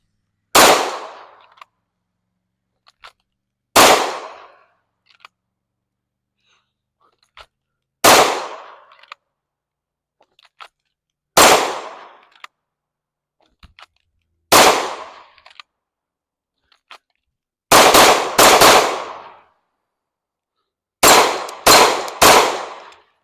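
Glock 19 pistol fired at a shooting range: sharp, loud gunshots spaced a few seconds apart, eight or so single reports early on, then a quicker cluster of shots near the end, with quiet gaps between.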